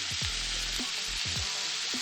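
Shrimp cooking in butter in a pan give a continuous broad sizzle, close and even throughout, with a few low knocks and thuds from the pan underneath and no voices.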